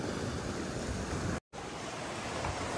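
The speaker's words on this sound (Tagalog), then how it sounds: "Lakas ang alon." Strong sea waves surging at a fishing spot, a steady dense roar of surf filling the whole clip with no voices, broken only by a very short cut of silence midway.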